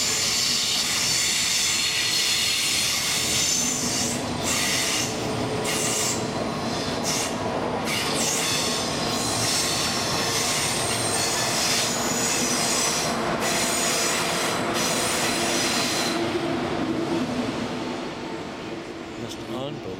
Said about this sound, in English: More of the train yard. And we're still filming, and here comes yet another train.